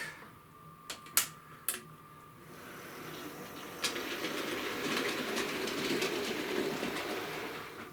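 A model train rolls over Peco points in a fiddle yard, giving a steady rumble of wheels. A few sharp clicks come at the start, and there is a soft clickety-clack throughout.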